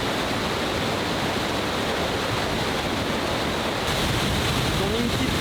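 River water flowing with a light current in the Amazon rainforest of Ecuador, a dense, steady rushing hiss that runs unbroken and close throughout.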